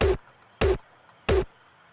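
Three dry, punchy kick drum hits with no effects, evenly spaced about two-thirds of a second apart, each short with a quick decay and silence between.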